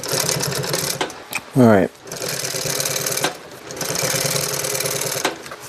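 A sewing machine top stitching upholstery for a 1966 Ford Galaxie, running in rhythmic mechanical bursts with a short whirring spurt partway through and a brief spoken remark nearby.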